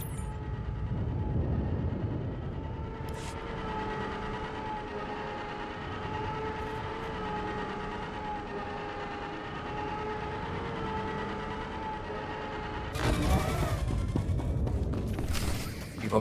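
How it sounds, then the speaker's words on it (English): Rocket tram running in Star Wars: The Old Republic, a steady rumbling rail drone with tonal hum that holds for many seconds, then a brief louder burst of rushing noise near the end, no talk. "The rocket tram."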